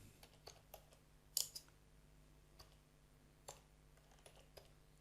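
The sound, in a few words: typing code on a computer keyboard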